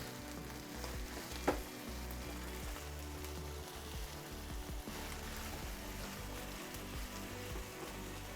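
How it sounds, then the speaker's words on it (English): Minced meat browning in a pan for a spicy cottage pie gives a steady, close sizzle and crackle throughout, with one sharp clink or stir near the start and no voices. "just brown our mince off"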